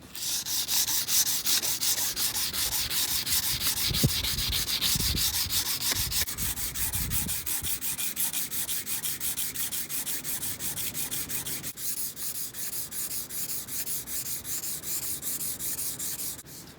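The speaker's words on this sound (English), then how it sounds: "now that I have the blade polished out, I didn't film all of it because it's more or less the same thing, just with different grits" Steady, close rubbing and sanding strokes on a forged pocket knife blade, worked through different grits during polishing; a continuous abrasive rasp runs throughout with no talking, briefly easing near the end.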